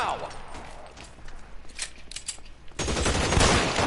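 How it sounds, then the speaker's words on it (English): Machine gun fire in the LA Noire video game: scattered clicks and shots give way to a sudden loud, dense burst of rapid gunfire in the final second, with a voice speaking partway through. "He's got a machine gun."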